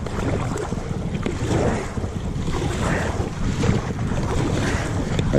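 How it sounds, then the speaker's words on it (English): Waves slap and splash against a small stand-up fishing boat on a lake, with strong wind buffeting the microphone in a continuous, rough wash of noise. "Big old waves coming at me now."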